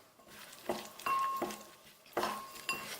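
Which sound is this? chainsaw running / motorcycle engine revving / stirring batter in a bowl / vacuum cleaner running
stirring batter in a bowl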